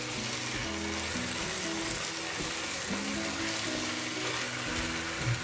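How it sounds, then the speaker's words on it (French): Potato rounds stirred into a cooking pot for a saffron-seasoned pot-roast chicken, with a steady sizzle and soft scraping and shuffling of slices throughout, close and continuous with no talking. "Je mélange tout ça."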